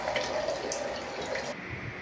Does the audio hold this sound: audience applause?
no